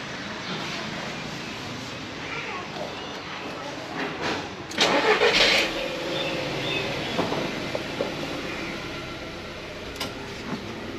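A Volkswagen Polo TSI GT with a turbo GDI petrol engine and a fitted CNG kit runs at a steady idle, with a brief louder rev around the middle before it settles back to a smooth hum.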